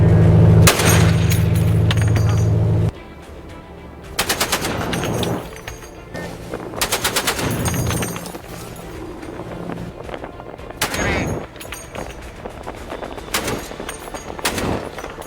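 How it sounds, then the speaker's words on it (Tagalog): A naval gun fires live rounds during a daytime sea trial for the Philippine Navy, heard as loud rapid bursts and sharp reports over a steady low engine hum, near and forceful, with no talking. "the firing sequence at different intervals and varying distances began"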